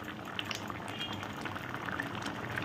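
Dal simmers in a pot as a ghee and ginger tempering is added, producing a steady, fairly quiet bubbling and liquid churn throughout with no voices.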